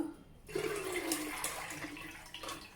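Water drains from washed black-eyed peas in a strainer, a steady broadband rush of trickling water that starts after a brief quiet moment and continues fairly evenly, close and moderately loud with no talking.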